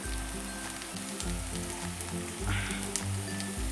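Chopped capsicum drops into a pan of onions on a low flame and sizzles with a steady, gentle crackle, while soft music plays underneath.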